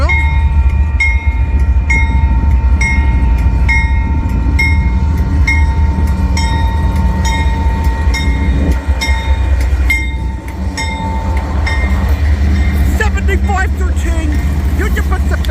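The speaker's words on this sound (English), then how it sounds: "7337 Union Pacific leading is the leading locomotive." Union Pacific freight train led by locomotive 7337 rolls steadily past at close range, a loud continuous rumble of wheels and cars with rhythmic clicks over rail joints, a faint squeal near the end.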